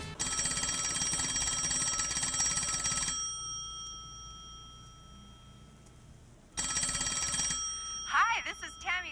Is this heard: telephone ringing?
yes